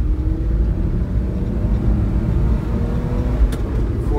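Daihatsu Hijet mini truck driving in third gear, its engine a steady low droning rumble heard from inside the cab, continuous and fairly loud with road noise, no talking.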